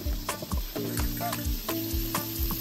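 Fish frying without oil in a Saladmaster pan, a steady close sizzle with scattered clinks and stirring clatter throughout.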